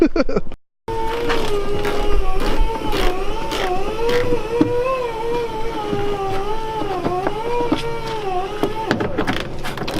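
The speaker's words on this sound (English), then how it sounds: "If you hear that obnoxious sound, that is our dad polishing the wheels we got for the F250." A machine polisher working on new wheels for a Ford F250, a loud, whining electric motor tone that wavers up and down in pitch as it's worked, continuous after a brief cut near the start.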